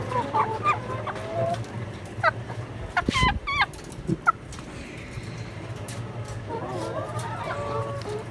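Domestic chickens, some sick with failing legs, cluck in short scattered bursts, with louder calls in the middle and a few soft bird notes later, over a steady low background hum.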